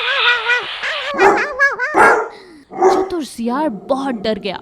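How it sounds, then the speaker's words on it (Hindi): Dogs bark and yip excitedly in quick bursts while chasing a jackal, the barking mixed with a narrator's voice and whimpering yelps, close and loud. "कुत्ते चतुर सियार के पीछे लग गए।"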